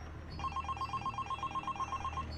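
A telephone rings as a sound effect in a spoken horror story, a rapid trilling bell pulsing evenly for about two seconds, moderately quiet and heard alone.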